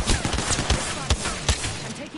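Video game gunfire cracks in a quick flurry of close, sharp shots, some bunched into bursts, with game effects and a voice mixed in.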